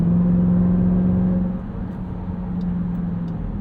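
A 2023 Dodge Durango SRT Hellcat with an 8-speed automatic cruises with a steady low engine drone and a tonal hum that dips briefly, then settles back, heard from inside the cabin.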